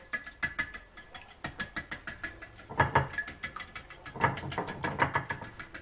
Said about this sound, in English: Using a shallow bowl, you want to beat 3 eggs.